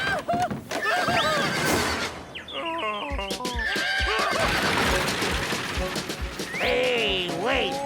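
Cartoon stagecoach horses whinny wildly in repeated loud neighs, mixed with hoof clip-clops and crashing, smashing noises as they bolt out of control.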